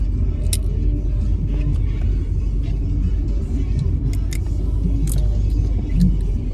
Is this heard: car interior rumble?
yes